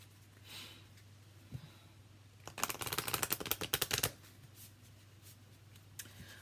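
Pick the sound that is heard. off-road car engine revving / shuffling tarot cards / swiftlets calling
shuffling tarot cards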